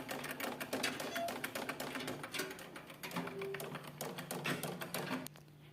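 A treadle sewing machine being pedalled produces steady rapid mechanical clatter, continuous and fairly close throughout, with faint tonal hums underneath.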